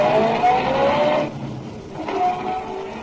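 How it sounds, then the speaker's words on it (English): A car pulling away for a detective radio drama, its engine loud and steady for about a second, then dipping and swelling again as the vehicle moves off, heard alone with no talk. "I got in my car, drove down to Walnut Street."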